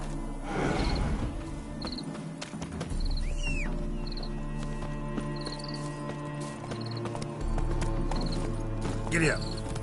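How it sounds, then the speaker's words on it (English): Horse hooves clip-clop in The Witcher 3 video game, a steady gait under ambient game sound with faint bird calls and distant voices. "Bloody fine mount. Good stance, powerful rump, stable withers."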